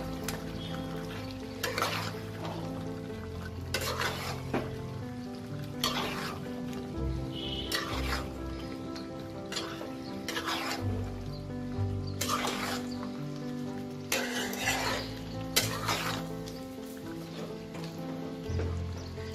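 Palak chicken, spinach and chicken, being stirred in a pan: a soft ongoing sizzle broken by repeated louder scraping and stirring strokes, with a faint tonal hum underneath and no talk.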